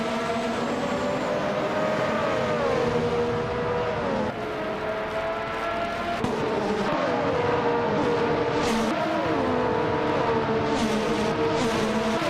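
Race cars in a racing video game, among them a Ligier JS31, drone steadily with overlapping engine tones rising and falling through gear changes, several cars heard together without pause.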